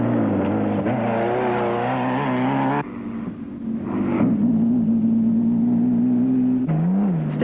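A turbocharged Toyota Hilux racing truck engine drones loudly and steadily at high revs during an off-road race, shifting pitch as it changes gear, then surges again with a rising whine.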